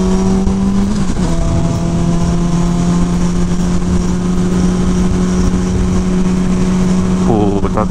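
Car engine humming steadily and loud from inside the cabin, holding a constant drone before a rising rev near the end as it accelerates.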